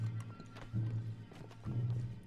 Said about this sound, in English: There's two assholes on horses.